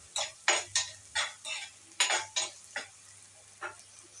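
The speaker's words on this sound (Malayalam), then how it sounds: "നല്ലതുപോലെ ഇളക്കി മൂപ്പിച്ചെടുക്കാം." Repeated stirring and scraping in a pan while coconut masala for kozhuva (anchovy) fish peera roasts, with about a dozen evenly spaced scrapes over a faint low hum and no talk.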